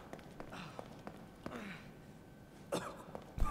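A character in the horror game The Evil Within coughs and clears their throat several times, short scattered bursts fairly faint against a quiet background, with a louder thump at the end.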